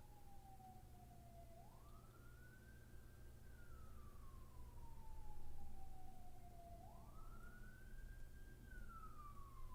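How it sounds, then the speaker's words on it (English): A wailing emergency vehicle siren sounds outdoors at a distance, faint and rising and falling in two slow sweeps over a low background hum. "Oh, you can hear the sirens?"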